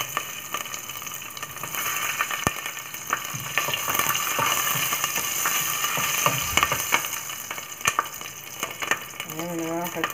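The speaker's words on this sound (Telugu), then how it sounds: "పచ్చిమిర్చి వేగినది" Green chillies fry in hot oil with tempering spices for vegetable rice, a steady broadband sizzle with scattered crackles and stirring clicks running the whole time, close and fairly loud, with a brief voice near the end.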